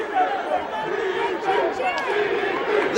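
Wrestling crowd at a 2005 Destination X event in the Impact Zone, a loud, continuous roar of many voices rising and falling in excited chanting and shouting, with no distinct speech above it.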